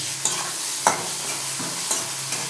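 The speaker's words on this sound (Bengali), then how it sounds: "পেঁয়াজটা ভাজা ভাজা হচ্ছে, লবণ দিলাম পেঁয়াজটা নরম করার জন্য।" Chopped onion sizzles in hot oil with bay leaf, dried red chilli and whole garam masala, salt just added, a steady close crackle broken by about five sharp scrapes of a stirring spoon.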